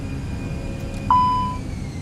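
Cockpit warning tone in the Microsoft Flight Simulator video game, a single clear beep sounding midway and held about half a second over faint cabin hum.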